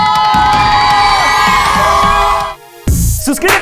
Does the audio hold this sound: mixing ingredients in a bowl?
no